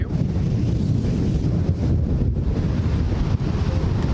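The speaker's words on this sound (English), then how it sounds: "you can actually hear a little bit of the wind effect" Loud, buffeting wind noise blasting the microphone of an S309 PA system, a constant low roar with rough gusty flutters and no speech.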